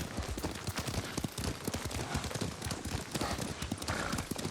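Horse hooves clip-clop steadily in a quick rhythm, fairly close, with no voices, in the video game Ghost of Tsushima.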